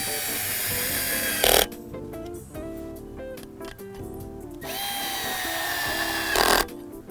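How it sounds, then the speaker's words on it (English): A powered screwdriver drives T25 wood screws to fix a FarmBot Genesis tool bay in place, giving two close, whirring bursts with a ratcheting mechanical edge, separated by quieter handling noise. "So I'm gonna go ahead and screw this tool bay in with the"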